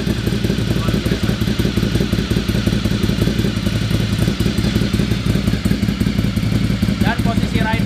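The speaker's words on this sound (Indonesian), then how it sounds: "Apalagi nih knalpotnya sudah dimodif ya. Jadi suaranya memang pastinya besar banget." A Ducati Monster 1100 or MV Agusta Brutale 800 motorcycle with a modified loud exhaust idles close by in a steady, deep, throbbing rumble, with someone talking over it.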